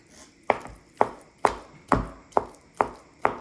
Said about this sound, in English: Chop up the meat so it's easier and it's got the skin last as well.